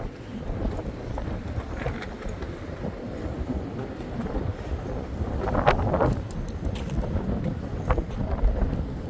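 Blustery wind outdoors at a prehistoric Indian village site, a steady low rumble of gusts buffeting the microphone, swelling midway with brief rattles and crackles, no talk.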